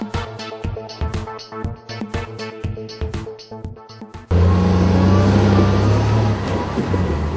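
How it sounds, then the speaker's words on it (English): A Tigercat harvester debarks mature Southern Hemisphere pine with its blade and feed wheels: heavy diesel machinery hums with clattering knocks and hydraulic bursts, then a sudden loud, steady grinding roar takes over near the end. "The operator debarks the trees using the blade and the wheels."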